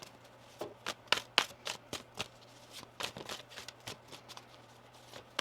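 Tarot cards are shuffled in a quick series of crisp riffling bursts, close and fairly quiet, with short pauses between them.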